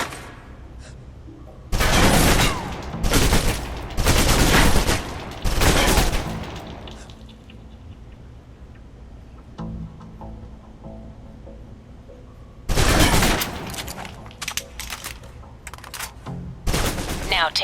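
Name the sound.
submachine gun fire, emptying clip, Alpha Protocol video game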